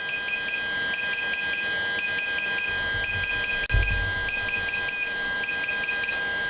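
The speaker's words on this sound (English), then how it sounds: "you will hear the beeping sound" A DJI drone remote control beeps during a firmware upgrade, with a loud, rapid, repeating electronic beep pattern running throughout, broken once by a brief low thump.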